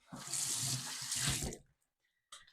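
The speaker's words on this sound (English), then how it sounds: "you actually go and you wet your hands" Tap water running into a sink while hands are wetted, a loud steady splashing gush for about a second and a half, then a brief silence and a short faint clatter.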